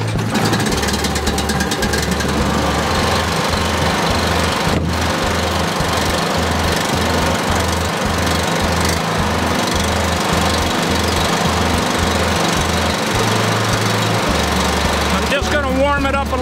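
Suzuki 9.9 HP two-stroke outboard motor pull-started and running, a loud, close, rapid chattering putter with a pulsing low rhythm that continues throughout.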